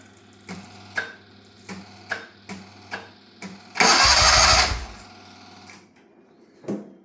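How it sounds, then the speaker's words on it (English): A dune buggy engine with seized pistons is cranked over by the starter in a series of rhythmic chugging strokes, then a loud burst of noise, a fading tail, and one last short crank. "now we got to crank it over just one or two times so the pistons go up and down"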